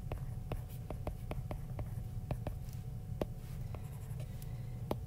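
A pen or pencil writes out a logarithm problem on paper, a run of crisp, repeated scratching strokes heard close and clear over a quiet room hum.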